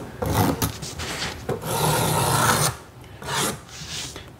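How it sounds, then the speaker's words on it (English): A scissor edge scraped repeatedly across a surface to strip excess fibers, producing steady raspy rubbing strokes in several bursts of varying length, close and moderately loud with no talking. "you can take an edge, like a scissor edge, and you can remove relatively quickly Any the excess"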